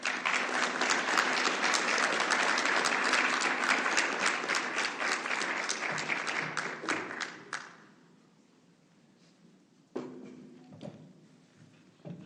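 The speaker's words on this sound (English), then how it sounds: "Please join me in giving a big round of applause for Building Our Future's 2025 to 2026 Youth Voice" An audience at a youth-led school board candidate forum applauds steadily for several seconds, then the clapping thins to a few scattered claps and fades, with a couple of brief louder knocks near the end.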